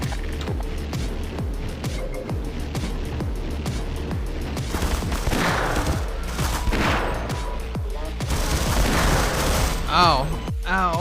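Rapid bursts of gunfire from Half-Life running on the Source engine, dense repeated shots across the whole stretch with booming impacts, loud and continuous, with game effects layered over it and a louder flurry near the end.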